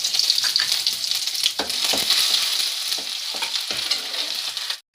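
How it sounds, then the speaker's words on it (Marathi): Garlic and ginger fry in hot oil in a pan as gravy for veg Manchurian begins, a loud, steady sizzle broken by scraping stirs. The sound cuts off abruptly at the end, with no talk. "तर मी ते लसूण टाकून घेणार आहे,"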